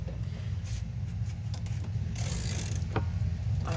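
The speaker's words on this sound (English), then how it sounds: "I'm going to take these nuts off, our studs, set them in our catch bin" A ratchet clicks close by as nuts are backed off studs on a 2004 Saturn VUE rear quarter panel, irregular bursts of pawl ratcheting over a low background hum, with no voices.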